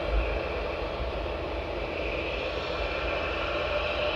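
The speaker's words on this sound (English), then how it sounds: "let's listen to the engines as they start up" Aircraft engines spin up at East Midlands Airport, a steady, loud broadband roar with a low rumble and a faint high whine, heard alone without voices.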